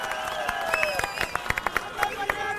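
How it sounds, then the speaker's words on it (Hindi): A crowd at an Aam Aadmi Party rally claps and cheers to welcome Sanjay Singh, scattered sharp claps punctuating a sustained shouted voice and general crowd noise. "अगली आवाज हम सबके शेर संजय सिंह की जोरदार तालियों से स्वागत करिए"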